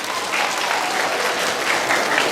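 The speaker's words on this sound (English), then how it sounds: "Why don't we give her a round of applause as well?" A live audience at a children's comedy show applauds in a dense, steady wash of clapping that holds evenly throughout.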